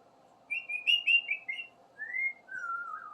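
A pet bird whistles a string of clear, gliding notes in short phrases, fairly close, over a faint low background hum.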